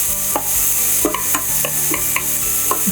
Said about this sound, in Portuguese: a gente vai dar uma refogada aqui, ó